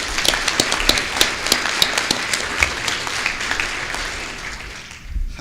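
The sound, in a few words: audience applause for panelists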